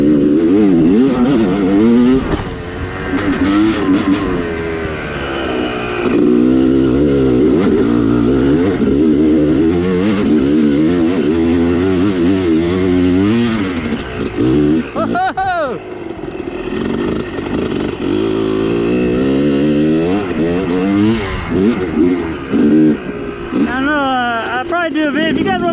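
A dirt motorcycle fitted with an FMF exhaust revs and accelerates up close, its engine note rising and falling repeatedly. A rider talks over the loud, continuous engine.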